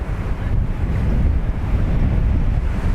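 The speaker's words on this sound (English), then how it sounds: "Crosswind picking up, as you can see." Strong crosswind gusting across Dublin Airport, a dense continuous rush of wind buffeting the microphone with heavy low-end rumble, loud and steady with no voices.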